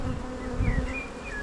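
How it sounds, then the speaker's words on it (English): Honey bees at a hive being worked by a beekeeper make a dense, continuous buzz nearby, with individual bees whining past in rising and falling tones. "This is rolling bees."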